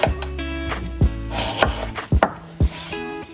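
A knife chops through unpeeled apples on a cutting board, cutting them into strips, with several sharp taps and scraping rubs spaced irregularly, close and fairly loud.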